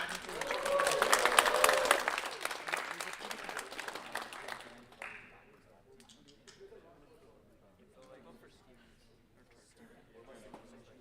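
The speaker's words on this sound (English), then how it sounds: "And can we have a round of applause for Team 1?" Audience applause for a team at the Albertaloop Mechatronics Showdown, a dense burst of clapping that swells for about two seconds, then thins out to scattered claps and crowd murmur.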